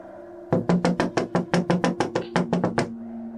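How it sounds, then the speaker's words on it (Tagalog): Rapid run of about fourteen sharp knocks on a door in a home, evenly spaced and loud and close, starting abruptly after a quiet moment and stopping suddenly, with no voices. "Kinabukasan, nagising sina Alexa at Leonora sa sunod-sunod na katok"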